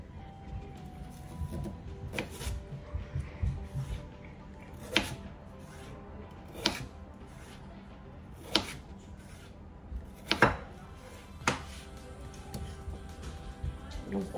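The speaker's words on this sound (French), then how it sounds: "when you cut it, it feels like an apple" A knife slices through a fresh jicama on a cutting board, quiet close-up cuts landing one at a time with pauses between, about eight crisp strokes.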